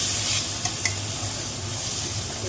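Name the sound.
stirring food in a frying pan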